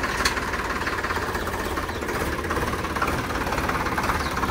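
A Swaraj tractor engine runs steadily at close range, a dense continuous diesel rumble with a knocking undertone and no break in the noise.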